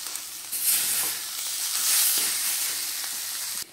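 Loud, steady sizzling of ash gourd frying in oil in a pan, with toasted ground cumin added. The hiss swells and holds close and alone for several seconds, then cuts off abruptly near the end.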